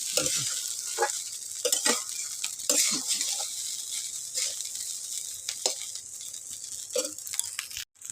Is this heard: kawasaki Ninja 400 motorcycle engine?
no